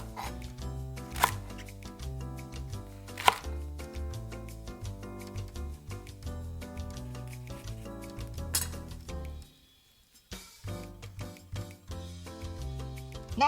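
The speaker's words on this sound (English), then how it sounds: "First, cut the long green onions into lengths." Rapid knife chops slicing thick Japanese long green onions on a board, crisp repeated taps in quick bursts over soft background music, pausing briefly before resuming.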